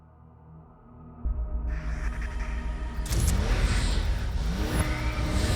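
A car engine builds from a low idle into loud, sustained revving that swells and intensifies, with deep rumble and rising whine, alone without talk.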